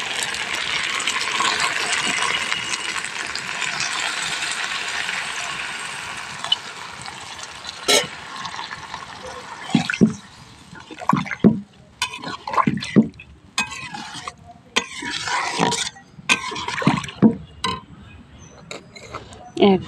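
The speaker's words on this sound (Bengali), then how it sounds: "এখন আমি জলটা দিয়ে দেব।" Water pours into a pot of chicken as it cooks, a steady loud gush that fades after several seconds. Clinks, clatter and handling noises from the kitchen follow, with a voice speaking in places.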